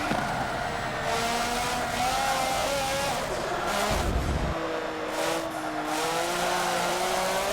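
In Forza 7 at Silverstone, an F1 car engine whines continuously while tires squeal and screech through hard turns, the pitch rising and falling.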